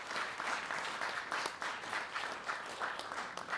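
Sustained applause from a crowd at an Alaska Day event, a dense, even clatter of clapping hands that continues throughout without pause.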